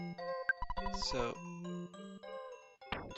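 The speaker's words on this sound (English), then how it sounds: "their theme music has those wind chimes, that kind of panpipe" Tenda Village theme music from the EarthBound video game plays, a short gentle tune with bright chime-like tinkles and soft panpipe tones, standing alone without talk.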